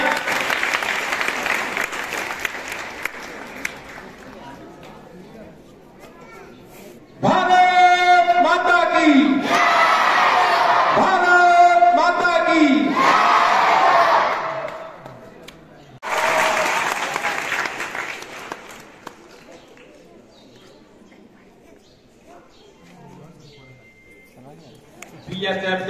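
A crowd claps for a Border Security Force dog team at a border ceremony in Nadabet, Gujarat, with loud sustained bursts of applause that rise, fade and return, mixed with voices.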